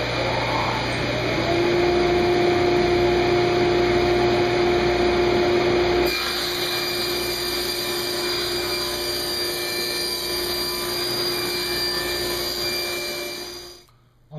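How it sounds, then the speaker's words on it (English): A power saw rips 3/16 inch off the edge of a wooden top for a Sheraton writing desk, a loud steady whining roar that shifts pitch midway through the cut and winds down at the end. "I've got the saw set up to do that"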